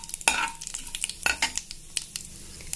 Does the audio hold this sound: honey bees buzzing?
no